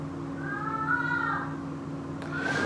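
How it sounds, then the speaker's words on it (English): A house cat gives a drawn-out meow close by, fairly loud over a steady low hum, then starts a second meow just after a brief click. "My cat always starts meowing like whenever I record a video."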